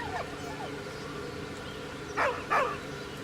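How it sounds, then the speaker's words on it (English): A dog in Baldur's Gate 3 gives two short, high whining whimpers near the end, faint rising cries first, then two louder ones over a quiet ambient game bed. "With a deep, heartbroken whine, the dog bows his head."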